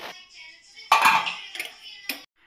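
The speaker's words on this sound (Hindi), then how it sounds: "अब इसका ढक्कन खोलती हूँ मैं।" Metal scrapes and clanks up close as a cooled pressure cooker lid is twisted and lifted off cooked pea pulao, with a sharp ringing clink near the end.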